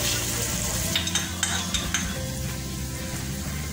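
Spice tempering sizzles in a hot pan for a vada pav potato filling: a steady, close frying hiss with a few soft stirring clicks and no voices.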